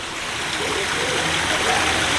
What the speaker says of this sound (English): Oh look, waterfall.